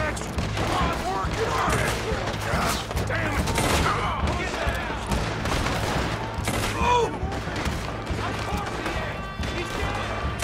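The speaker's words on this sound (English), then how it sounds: "I'm trying to keep shooting" Dense gunfire in Red Dead Redemption 2 during the Saint Denis bank job: continuous rapid shots and crashing impacts layered over game music, with a player talking throughout.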